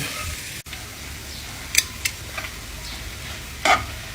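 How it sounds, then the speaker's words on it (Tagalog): Garlic fries in oil in a pan with steady soft sizzling, broken by a few light scraping stirs and clinks of the utensil against the pan. "Maglagay na tayo ng mantika. Ilagay na natin itong bawang. Ayan, magluto na rin tayo ng pritong bangos. Ayan, halu-haluin natin."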